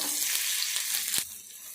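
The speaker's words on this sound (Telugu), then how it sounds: "ఈ ముక్కలు వేయించుకోవాలి. ఇవి మంచిగా ముక్కలు ఫ్రై కావాలి." Tomato pieces fry in oil with a dense, close hiss that holds steady, then drops off slightly near the end after one brief knock.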